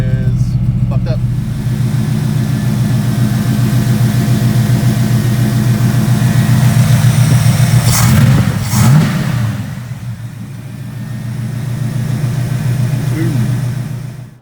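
An LS-swapped 1975 Pontiac Firebird Formula engine with a faulty carburetor rumbles loudly at idle nearby, with a couple of brief blips of revving partway through before settling back, and a person talks over it.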